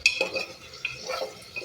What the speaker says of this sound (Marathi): आता हे परतून घेऊयात आपण.